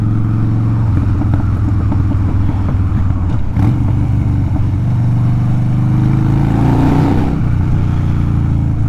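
A 2014 Harley-Davidson FXDL Dyna Lowrider with a six-speed gearbox rumbles loudly and deep while being ridden, its steady engine drone mixed with wind noise, the pitch shifting slightly near the end.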